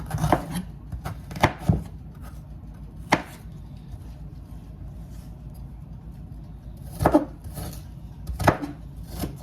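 A knife chops a small piece of onion on a board in scattered clusters of sharp knocks, close and moderately loud, with quiet pauses between bursts and no talk.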